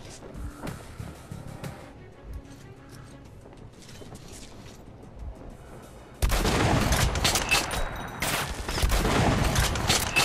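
Gunfire in the video game Metro Last Light: dense bursts of shots throughout, growing much louder and more continuous in the second half, with no talk over it.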